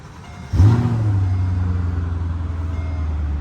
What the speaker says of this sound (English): The exhaust sounds fantastic.